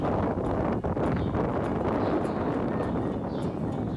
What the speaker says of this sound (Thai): ลมแรงมาก ๆ เลยนะเนี่ย